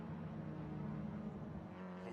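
Race cars circulate at Winton Raceway during a Victorian State Race Series round, a steady droning engine hum at moderate distance, quiet and continuous without distinct passes.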